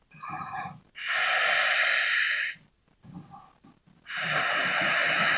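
Deep breaths during a gentle floor yoga session: two long, loud, close exhalations with a hissing, wheezy rush of air, each preceded by softer inhales.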